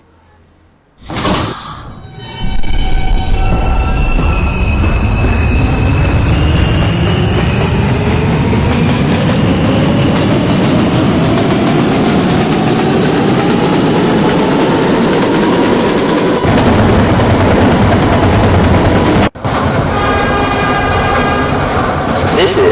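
Loud, steady running of an R160B D subway train in the PTA Subway game, motor tones climbing as it accelerates over continuous rail rumble and clatter, with a brief dropout near the end.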